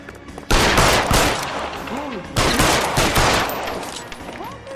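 Two heavy bursts of gunfire crack out in a detective shootout in L.A. Noire, set in 1940s Los Angeles, each loud blast followed by a decaying rumble and scattered echoes, with a faint voice fragment near the end.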